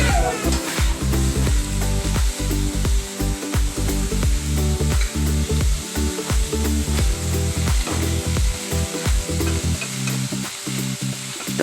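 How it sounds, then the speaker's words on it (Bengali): Continuous loud sizzling and crackling of cauliflower frying in hot oil, with occasional scraping and stirring knocks from a utensil. "তারপর ফুলকপিগুলো হালকা করে ভেজে নেব"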